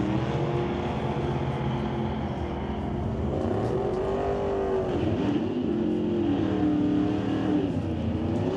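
A Super Gas drag racing car roars at a drag strip, its engine holding a loud, steady drone that rises and dips in pitch as it runs, with no talk over it.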